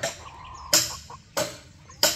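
Gamefowl chickens kept in hardening pens cluck softly between three sharp, loud bursts of noise close by.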